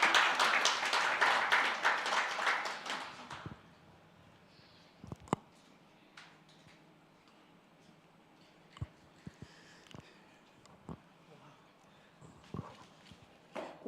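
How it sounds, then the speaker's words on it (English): Audience applause at a gala awards dinner, a loud burst of many hands clapping that fades after a few seconds into quiet room noise with scattered taps and knocks. "Kindly give her a round of applause."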